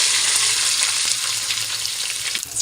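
Tomato masala for a large batch of veg pulao sautéing in a pan, a steady loud hissing sizzle with faint stirring scrapes throughout, close up and without any talking.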